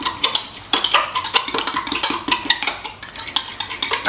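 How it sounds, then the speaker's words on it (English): A knife whisking shrimp sauce in a bowl, rapid rhythmic scraping and clicking against the bowl, close and loud, continuing without pause and without talking. "I am going to whisk this together. And by whisk, I'm really just using this knife and kind of mixing it up"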